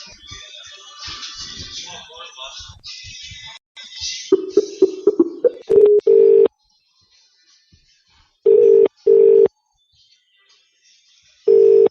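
A telephone call being placed: a steady electronic line tone sounds in repeated beeps and longer bursts after some muffled talk, loud and close.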